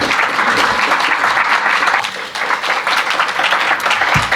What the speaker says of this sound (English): I don't deserve any applause yet